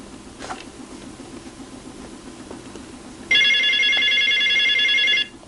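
A telephone rings during a call placed to Dermasil Labs on a middle-sized phone, a steady electronic ring tone coming in loudly for about two seconds over a low continuous hum.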